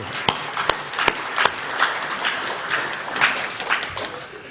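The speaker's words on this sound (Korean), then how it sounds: "다시 한번 좀 우리 박수 드리겠습니다" Church congregation clapping for the choir during a Korean service, a moderate, uneven patter of hands with a few sharp louder claps near the start, heard at medium distance without speech over it.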